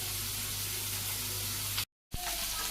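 Fish frying in a pan in a Bangladeshi village kitchen gives a steady, close broadband sizzle that cuts out briefly near the end, then resumes.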